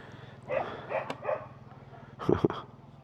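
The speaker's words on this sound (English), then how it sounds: "Obviously it's dog feeding time." Several dogs bark and yip at feeding time, a few short calls at moderate distance followed by a sharper double bark, with quiet background hum in between.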